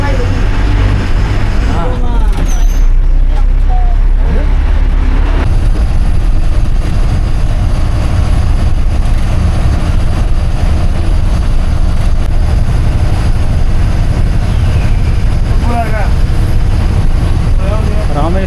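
A Tamil Nadu state transport (TNSTC) bus on the Rameswaram to Thanjavur route pulls away from a stop and cruises on, its engine drone and road rumble loud and steady throughout, with voices talking over it at times.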